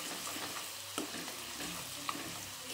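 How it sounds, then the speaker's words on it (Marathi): Garlic paste fries in hot oil for a dal tadka, a soft, steady sizzle close by with faint stirring scrapes and a couple of small sharp ticks, no voices. "आपण आता लसूण थोडासा करकळून घेऊया।"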